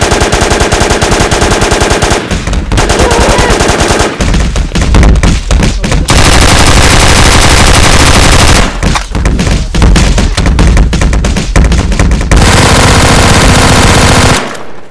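Loud automatic gunfire from a gun in the Roblox game, rapid bursts of shots in long strings separated by short pauses.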